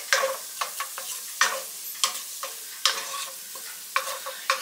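Onions and garlic fry in a pan with a soft sizzle, while a utensil stirs them in regular scraping strokes, close and clear with no voices.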